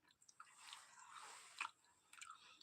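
Someone chews crunchy Kurkure snacks close by, with soft repeated crunches and one louder crack partway through, faint and without speech.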